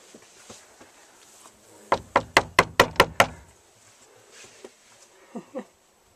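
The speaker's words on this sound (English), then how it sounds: "before I knock on the door" Seven quick, loud knocks rap on the front door of an Earthship home, close and evenly spaced, followed by faint footsteps and soft shuffling.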